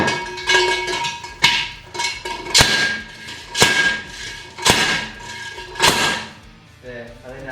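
A hammer drives wheel studs out of a Datsun wheel bearing hub, with about six loud, sharp metallic blows spaced roughly a second apart and close by.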